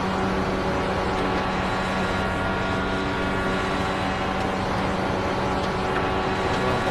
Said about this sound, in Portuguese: Muito legal o carro, barulho muito bonito.